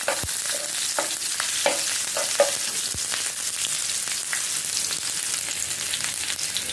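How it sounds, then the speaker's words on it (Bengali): Onion fries in a little oil for snake gourd bhaji, giving a steady close sizzle with occasional stirring scrapes and crackles throughout. "পেঁয়াজটা হালকা ভাজা হয়ে আসলে"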